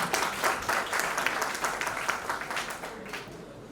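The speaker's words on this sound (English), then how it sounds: "a big round of applause for all of us here" Steady applause from a crowd at a university International Women's Day event, many hands clapping densely throughout at moderate volume, with a faint voice underneath.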